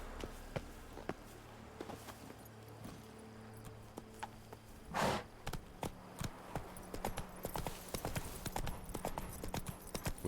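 Roach the horse's hooves clip-clop in The Witcher 3, a steady run of close, fairly loud strikes continuing throughout, with a brief louder whoosh midway.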